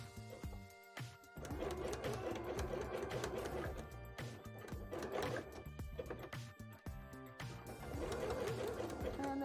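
Sewing machine zigzag stitching fabric onto the back of a handmade bra, running in close rapid bursts with brief pauses between runs.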